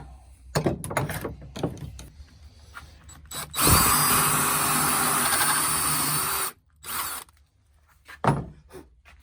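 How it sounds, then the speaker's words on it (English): A power drill whirs steadily for a few seconds, drilling holes in a camper van, between clicks and handling knocks, then stops; a brief second burst follows, close and loud. "as long as I'm drilling holes, I'm just going to go ahead and drill all the holes."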